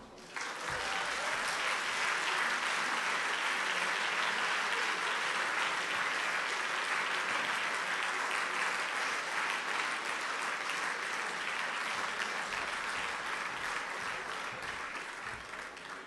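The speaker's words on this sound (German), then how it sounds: "Klatsch bitte nochmal." A large audience at a party convention claps in sustained applause for about sixteen seconds, a dense even roar of hands that swells quickly and tapers slightly near the end, with no voices standing out.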